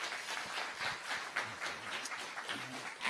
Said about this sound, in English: How about a nice round of applause for Dr.